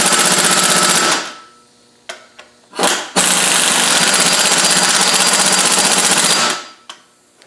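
An impact gun with a torque-limiting bar drives a bolt on a Land Rover 90 300Tdi: a loud rattling burst of about a second, a brief blip, then a long hammering run of roughly three seconds, close and alone.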